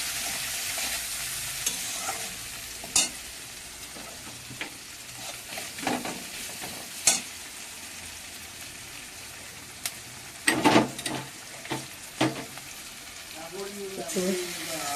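Spice paste with turmeric and salt sautéing in a pan for a stingray curry, a quiet, steady sizzle punctuated by irregular scrapes and clinks of a spoon, grouped into a busier burst of stirring toward the end.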